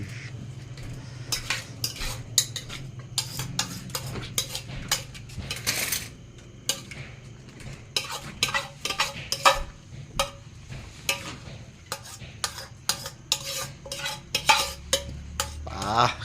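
A utensil repeatedly scraping and clinking against a pot or dish as a frog mixture is cleared out, an irregular run of close, sharp scrapes and taps; no talk.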